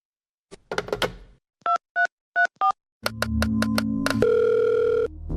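Telephone dial tone and call-progress beeps in a Hindi business news promo: a short knock-like burst, then four evenly spaced dual-tone beeps, then a steady loud tone with chiming hits, heard alone without talk.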